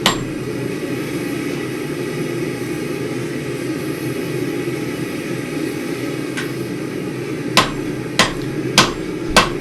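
Steel hammer blows in a blacksmith's forge while making a cupping tool, a cluster of sharp, loud ringing strikes near the end over a steady roaring background of forge fire or blower.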